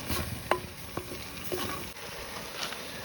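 A spoon stirs a beetroot and coconut mixture for pachadi in a pan over low flame, giving soft scraping strokes at a steady pace over a faint continuous sizzle, fairly close and quiet.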